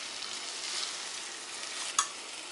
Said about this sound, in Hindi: सींग और आलू हमने बॉईल किया था, ये डाल देंगे। अच्छे से मिक्स करेंगे।